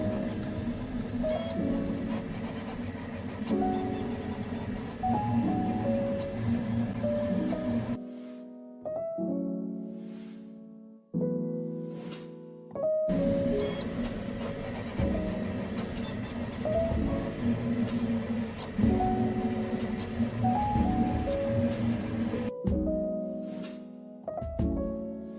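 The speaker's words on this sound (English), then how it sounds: "Next, I will print my own geometry model to test tolerance and see if the parts fit together." A Prusa Core One CoreXY 3D printer prints a test geometry model, its stepper motors whirring in shifting tonal patterns with brief pauses between bursts of movement, steady and close.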